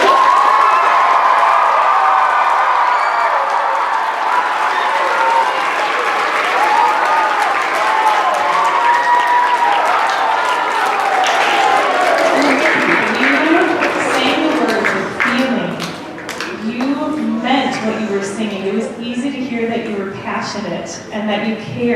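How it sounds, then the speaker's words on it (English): A school assembly crowd for Martin Luther King Jr. Day cheers and claps loudly in a hall, with children's voices shouting and whooping over steady applause that gives way to excited chatter. "Let's give a cheer for our school and the great job we did."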